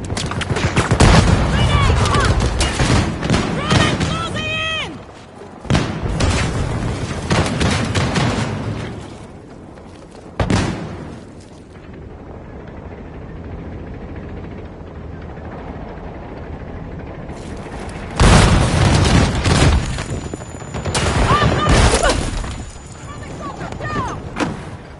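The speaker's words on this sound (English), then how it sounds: "Grenade out! Grenade closing in!" Gunfire and grenade explosions in a multiplayer shooter video game, with loud bursts of fire and blasts broken by quieter stretches, under frequent shouted voices.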